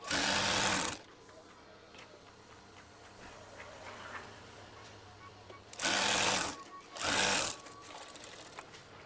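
A sewing machine stitches a folded curtain hem in three steady whirring bursts, the first about a second long and two shorter ones near the end, with quiet room sound in the pauses.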